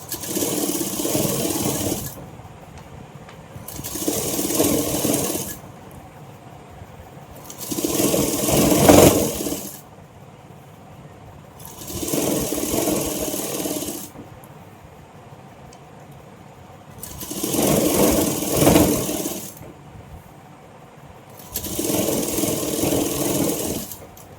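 Sewing machine stitching fabric for a Patiala pant, running in six loud bursts of two to three seconds each, separated by quiet pauses.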